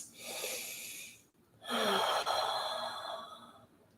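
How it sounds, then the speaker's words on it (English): Two long, deep breaths drawn and released during a yoga straddle forward fold, close and airy, the second breath fuller and longer, with no talking. "Take some breaths."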